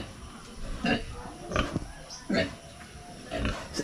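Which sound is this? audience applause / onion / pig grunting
pig grunting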